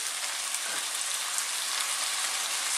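Chicken frying in a hot wok as a splash of light soy sauce goes in, a steady loud hissing sizzle like heavy rain that holds evenly throughout.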